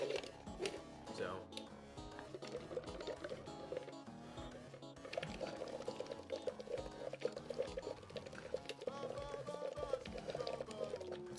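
Air is blown through a straw into a container of water, as in circular-breathing practice for wind instruments, producing continuous close gurgling and bubbling while a voice talks over it.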